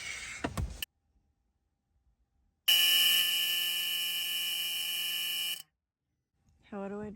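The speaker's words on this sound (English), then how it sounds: "What do I do about the buzzer?" A buzzer sounds in a bus that won't start: one loud, steady electric tone lasting about three seconds. Brief voices and handling noises come just before and after it.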